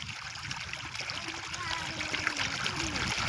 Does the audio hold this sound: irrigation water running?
yes